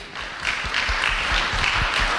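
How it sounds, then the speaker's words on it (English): An audience applauds a speaker at the end of a talk. The clapping is sustained and evenly loud, with a few heavier claps standing out near the front of the room. "big round of applause for Ron, Cartey"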